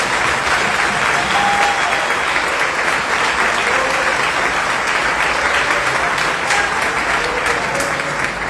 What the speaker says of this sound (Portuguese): Vamos receber um forte aplauso.